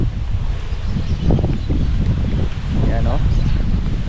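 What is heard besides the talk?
wind blowing outdoors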